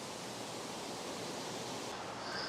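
Rushing water from a waterfall along a steep, trail-less path among wildflowers, a dense, steady broadband roar heard alone and unbroken throughout.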